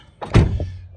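A single solid thunk of a Chevrolet Silverado truck door, fitted with new hinge pins, closing nearby, with a short low rumble fading afterward.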